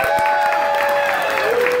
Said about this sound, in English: big round of applause for our host